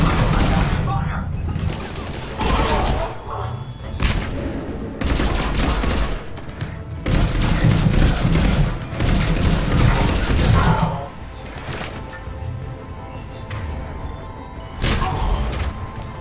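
A firefight in the video game Mass Effect brings bursts of rapid automatic gunfire and crashing impacts, loud and repeated in clusters, with voices talking between volleys.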